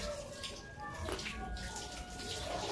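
A blanket is wrung out in clean water in a home, with sloshing and trickling water splashing close by, steady and moderately quiet and without clear speech.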